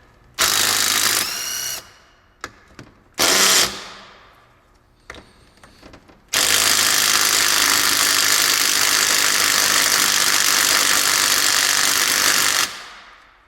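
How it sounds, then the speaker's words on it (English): A DeWalt DCF813S2 12V 3/8-inch impact tool struggles to torque small bolts. Short loud hammering bursts stop and start, then give way to one long sustained rattling run of about six seconds, close and loud with no voices. "Okay, the tool is struggling a bit."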